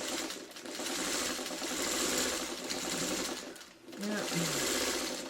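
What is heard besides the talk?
sewing machine stitching a quilt block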